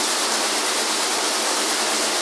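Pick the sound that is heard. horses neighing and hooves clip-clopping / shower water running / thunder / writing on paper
shower water running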